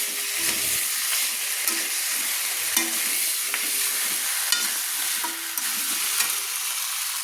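Chicken changezi sizzles steadily in oil in a pan over a medium flame, a continuous frying hiss broken now and then by short scraping stirs, close and fairly loud with no voices.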